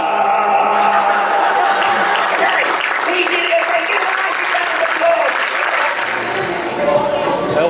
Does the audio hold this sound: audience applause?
yes